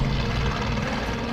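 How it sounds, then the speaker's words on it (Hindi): Helicopter rotor and engine noise, a dense steady whir heard briefly and moderately loud, with no voices. "हेलीकॉप्टर"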